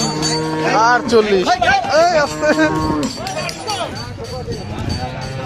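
A large cow lowing at a busy cattle market, several loud close moos in quick succession with crowd murmur and voices behind.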